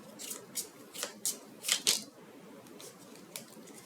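Tarot cards being drawn and shuffled from a deck for clarifier cards, giving several quick, soft papery flicks and snaps close by, with quiet room hiss between them and no talking.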